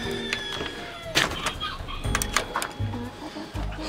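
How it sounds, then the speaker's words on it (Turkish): Rooster and hens in a Turkish poultry yard give brief clucks and calls amid knocks and thumps, with faint voices nearby. "horozumuz da burada"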